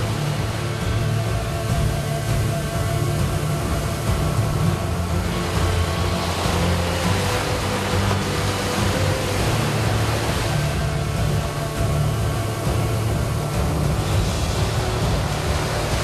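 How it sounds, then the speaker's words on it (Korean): Indian Ocean surf off Kovalam, South India, crashes continuously in a dense, roaring wash of breaking waves, loud and unbroken with no talk. "파도가 사정없이 그의 몸을 덮칩니다"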